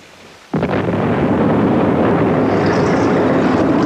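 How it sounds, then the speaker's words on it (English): After a brief quiet moment, a sudden loud blast erupts into a sustained, rumbling roar, heavy and close, like explosions and gunfire merging into one continuous boom, during an attack on a German submarine. "You heard that gunfire, Colonel."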